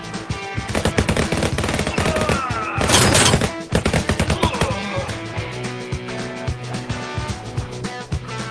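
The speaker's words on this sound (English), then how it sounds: "could revolvers really shoot like this? No, revolvers couldn't. But these two 45 caliber babies sure could." Paired .45-calibre revolvers in the VR shooter Guns'n'Stories: Bulletproof VR fire in rapid, loud machine-gun-like bursts, dense volleys of close shots with thuds and a shattering crash near the middle, then more spaced cracks.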